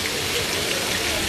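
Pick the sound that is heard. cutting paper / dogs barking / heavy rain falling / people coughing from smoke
heavy rain falling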